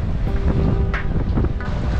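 Rough sea waves and gusting wind at Fyriplaka Beach on Milos, a dense roaring wash of surf with buffeting wind noise on the microphone, loud and continuous for the brief moment.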